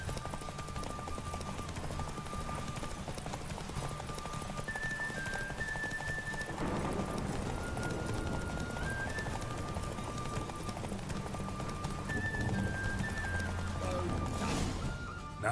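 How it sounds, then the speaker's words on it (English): In The Witcher 3, the horse Roach trots with steady clip-clop hooves under continuous game music and ambience, with a faint whinny. "Not so fast, Roach."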